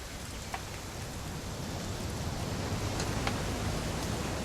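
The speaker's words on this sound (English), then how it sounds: "It's gonna rain the whole weekend" Steady rain falling in the video game What Remains of Edith Finch, a soft, even hiss with faint scattered drop ticks throughout, fairly quiet and with no voices.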